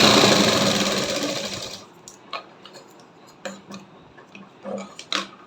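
A sewing machine runs a basting stitch along a folded fabric neckline, opening with a steady whirring run that lasts nearly two seconds. Sparse ticks and clicks follow as the machine stops and the cloth is shifted.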